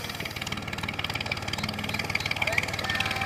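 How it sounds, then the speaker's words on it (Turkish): An old tractor engine chugs steadily with a rapid rhythmic knock, straining under load as it climbs a ramp at close range, with a faint high whine above it. "Traktör çıkıyor rampayı."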